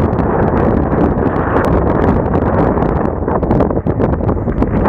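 Strong wind roars and buffets a microphone on a high mountain road between Nueva Vizcaya and Pangasinan, a loud, continuous low rumble with gusty fluctuations.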